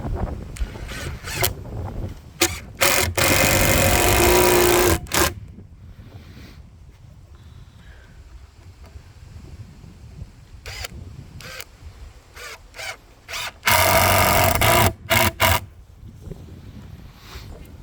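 A power screwdriver drives screws into thick wooden boards for a framed pool enclosure around a Bestway Steel Pro 3.96 m pool. Two loud, sustained whirring bursts, each a few seconds long, with scattered clicks and handling knocks in the quiet between.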